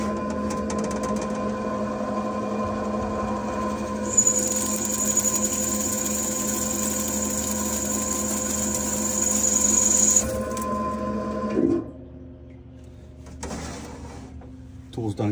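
A Heule BSF manual back spotfacing tool cuts with its blade popped open, giving a steady loud machining whine and hum that runs for about ten seconds, then stops abruptly and drops to quieter shop noise.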